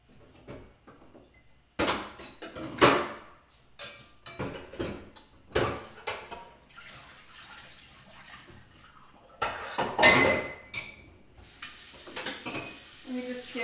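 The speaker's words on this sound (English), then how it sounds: "I just need to throw some stuff in the dishwasher and get it running." Dishes are loaded into a dishwasher in a home kitchen, with irregular clattering bursts of plates and utensils, scraping and clinking, rising and falling over several seconds without talk.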